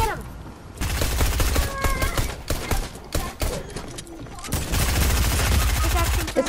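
Rapid video-game gunfire fired through a floor: dense bursts of automatic shots, loud and close, nearly continuous from about one second onward with brief lulls and heavy low-end thump, no talk over it.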